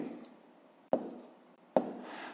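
Pen or chalk writing numbers during a fifth-grade decimal math lesson: a faint, soft scratching with two sharp taps spaced close together, heard alone in a quiet room.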